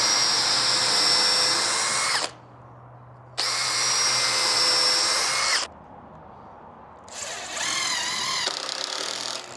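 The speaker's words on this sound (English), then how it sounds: "Put 2 holes through and then bolt the 80mm screws through" A power drill driving 80mm screws through pilot holes into a wooden garage shelving frame, two loud sustained whirring bursts of about two seconds each, then a shorter strained run with a changing pitch, close up.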